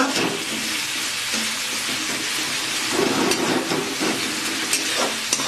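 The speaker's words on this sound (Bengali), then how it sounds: "মশলাগুলো কিছুটা ভাজা হয়ে এসেছে, এবার দিয়ে দেব টমেটো।" Tomato and spices frying in a pan for pomfret fish curry, a steady loud sizzle with occasional stirring scrapes and bubbling, close and continuous with no talk.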